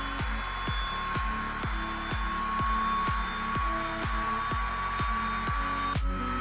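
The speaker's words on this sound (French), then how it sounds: "on entend le ventilateur qui se met en route" The small cooling fan of a SkyRC B6 Nano battery charger spins up as a discharge program starts, giving a steady, close whir with regular ticking clicks about twice a second.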